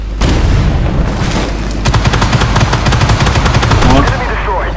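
Tank gunfire from the video game Armoured Warfare, AMX 30B2 Brenus, rattles as a loud, sustained rapid burst of machine-gun shots over heavy booming engine rumble, close and continuous for several seconds.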